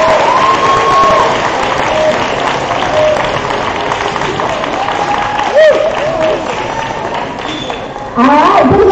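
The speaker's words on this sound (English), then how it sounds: "Let's give them a round of applause" A crowd at a live-streamed awards event applauds steadily for the Male Mustang winner, a dense wash of clapping with some cheering and voices in the mix, swelling again near the end.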